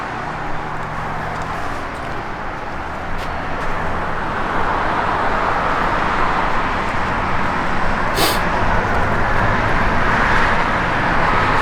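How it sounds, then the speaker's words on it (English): A 1970 Buick GS Stage 1 engine runs through Mickey Thompson full-length ceramic-coated headers, giving a steady, dense exhaust rumble that grows slightly louder over time, with no talking. "This has a very nice set of Mickey Thompson full-length ceramic coated headers on it, which sound amazing."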